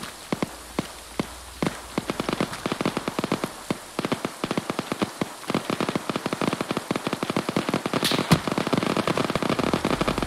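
Gunfire from a vehicle firing HE rounds in a combat game during a desperate defense of Cherno, starting as spaced single shots and building into dense, rapid crackling bursts with a couple of louder cracks near the end.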